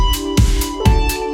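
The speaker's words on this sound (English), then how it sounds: "But it's an Ableton stock pad sound" A stock Ableton synthesizer pad holds a sustained chord, with soft swelling attacks repeating roughly every half second, loud and alone.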